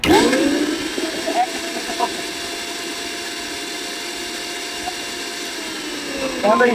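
An Orpat heavy-duty commercial blender whirs up to speed with a rising whine, holds a steady high-pitched motor drone, then spins down at the end.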